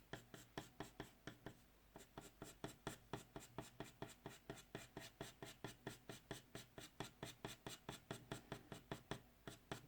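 A 5B pencil shades across paper on a flat area in steady back-and-forth strokes, a close, crisp scratching with a regular rhythm that runs alone throughout.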